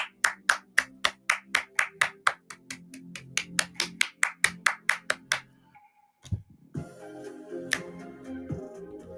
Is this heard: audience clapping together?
yes